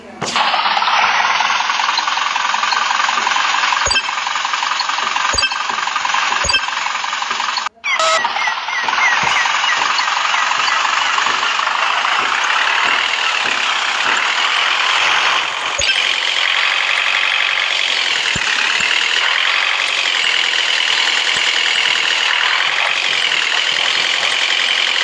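Truck engine idling in the Indian Truck Simulator driving game, a steady continuous mechanical drone that runs the full length with a few sharp clicks and one brief break near the start, shifting slightly in pitch later.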